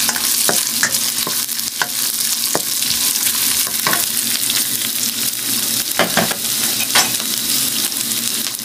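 Onions sizzling in a pan as they fry, a dense continuous hiss broken by scattered clinks and scrapes of stirring, close and fairly loud with no talking.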